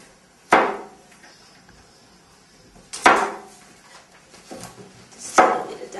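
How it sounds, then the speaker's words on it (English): Three sharp, separate knife chops on a cutting board, spaced a few seconds apart, as garlic cloves are diced by hand; close and clear, with a quiet room between the strikes. "Just a little bit of dicing."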